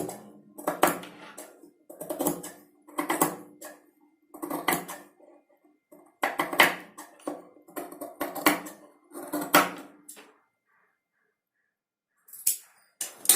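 Scissors snipping away extra blouse cloth after stitching, a series of short crisp cutting bursts in uneven rhythm, close and fairly quiet, with a pause near the end before one last cut.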